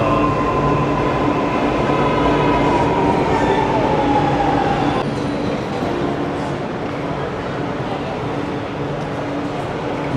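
An electric Chennai metro train runs with a loud, steady rumble and a falling whine as it slows, close by and continuous, with faint voices beneath.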